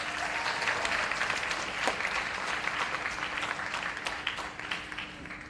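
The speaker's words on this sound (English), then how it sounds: "I ask that once more you give them a round of applause" Sustained applause from an awards ceremony audience honoring nominees for excellence in the performing arts, a broad, fairly distant crowd clapping steadily throughout with a faint constant hum underneath.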